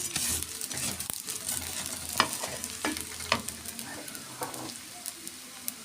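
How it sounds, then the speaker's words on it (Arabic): Rice tossed and stir-fried in a pan while cooking trotters (kawareh), with steady sizzling and scattered scraping strokes, fairly quiet and without talk. "الرز شوح معايا كويس قوي"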